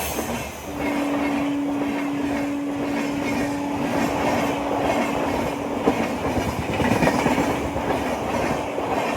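A train rumbles past a closed railway crossing, close and loud, with rolling wheel clatter and a sustained squealing tone over the first few seconds, continuing steadily to the end without any speech.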